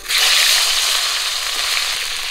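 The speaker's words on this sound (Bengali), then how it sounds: "মাছ ভাজা তেলেই আমি বেগুনগুলো ভেজে নেব।" Eggplant frying in hot oil left over from frying fish gives a steady, loud, close sizzle with dense crackling that holds evenly throughout, with no talking.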